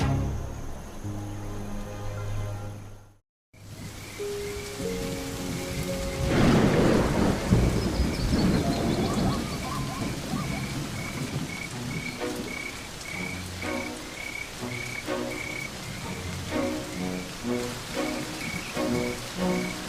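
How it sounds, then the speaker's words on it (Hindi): Steady rain falls on the Serengeti as thunder rumbles and rolls loudly through the middle, with frogs croaking in rhythmic bursts throughout the wet night-like ambience. "इस शावक ने अपने छोटे से जीवन में इससे पहले कभी बारिश नहीं देखी।"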